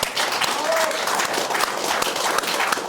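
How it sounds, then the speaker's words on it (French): Studio audience applauding a guest on a French political talk show, a steady dense patter of clapping that holds at an even level for a few seconds, fairly close. "J'ose applaudir mon invité"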